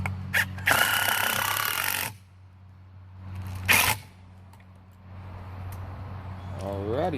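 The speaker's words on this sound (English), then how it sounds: "then I'll shoot another screw in this corner" A power driver sinks a screw into wood while building a DIY chicken snack feeder: a loud whirring burst of over a second, then a short second burst, with quieter handling noise between and after.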